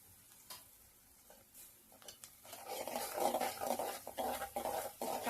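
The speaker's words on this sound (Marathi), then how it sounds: "आता हा सर्व कांदा लाल होईपर्यंत याला चांगलं परतून घ्यायचं" Onion and tomato sautéing in a pan, quiet at first, then a louder sizzling fry with scraping stirs and light utensil knocks in the second half.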